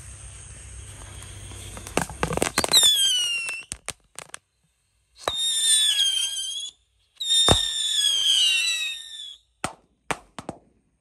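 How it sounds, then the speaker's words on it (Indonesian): Pirotar 1 rocket firecrackers whistle upward in shrill rising screeches, then burst with sharp cracks, several launches in sequence with silent gaps between, at night. "Ini ada mercon roket pirotar 1 pak"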